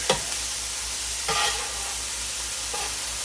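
Casserole ingredients sizzle on a hot Blackstone-style steel griddle, a steady soft hiss broken by a few brief bursts of louder crackling as food is stirred or added, close by with no talking.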